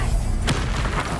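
A Confringo spell blast in Hogwarts Legacy lands with a sharp, loud boom midway, standing out against a steady backdrop of dense game noise and low rumble, with no talking.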